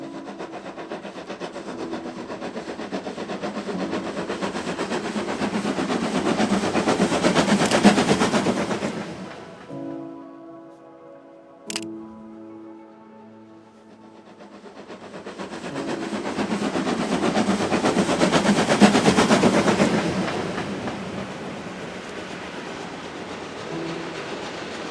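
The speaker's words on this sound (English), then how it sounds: "there was an old train, like still with coal engine, going off the Hjerkinn station" An old coal-engine train pulls out of Hjerkinn station, heavy rhythmic chugging and rattling swelling up close, dropping to a brief quiet with one sharp clank, then building again into a loud steady clatter.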